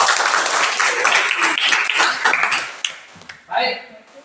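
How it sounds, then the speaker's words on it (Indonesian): Students in a junior high classroom clap for a classmate, a short burst of applause that fades out, followed by a faint clink and a voice speaking. "tepuk tangan Mas Arjan"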